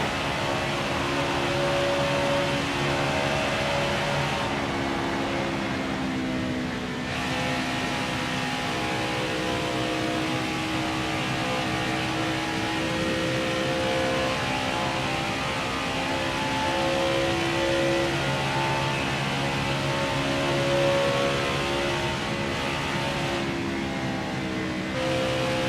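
Race car engine droning through a qualifying lap at Michigan in NASCAR Heat 4, a continuous loud whine with gradual pitch shifts as gears change, no voices.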